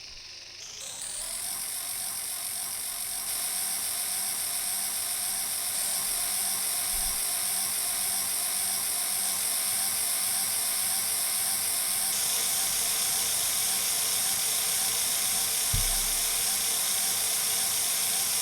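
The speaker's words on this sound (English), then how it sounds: "Now it's time to run all these 5 trains." Steady mechanical whirring and clicking of five simulated model trains running continuously in SCARM 3D layout software, a dense ratcheting hum with no voices.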